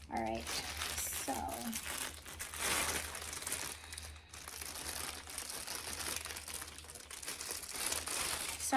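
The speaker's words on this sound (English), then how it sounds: "sorry for all the crinkling." Plastic packaging crinkles and crackles continuously while a BenQ e-reading lamp is unboxed, loud and close, with a voice talking softly underneath.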